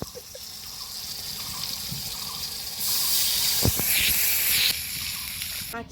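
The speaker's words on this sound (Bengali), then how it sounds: "এবার দিয়ে দিব জল" Water being poured into a pan of fish curry, a close, steady trickle that swells into a fuller gush partway through, with a couple of light knocks before it tapers off.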